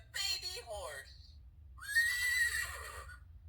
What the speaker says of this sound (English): Neigh, neigh. Neigh like a baby horse.